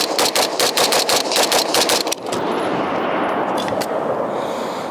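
Rapid gunshots from a New Frontier Armory G4 rifle ring out in a fast string of about a dozen sharp, loud reports. The crack of the shots fades into a steady roar of outdoor background noise.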